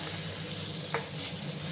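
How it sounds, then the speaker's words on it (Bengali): Pointed gourd (potol) frying in mustard oil in a pan over a medium gas flame: a steady, even sizzle close by, with one brief louder pop partway through and no voices. "পটলগুলো ভাজা হয়ে গেল।"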